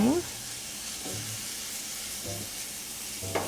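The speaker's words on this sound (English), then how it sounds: "Onions and garlic and olive oil." Onions and garlic sizzle softly in olive oil in a pan, a steady faint frying hiss broken by a few brief stirring scrapes.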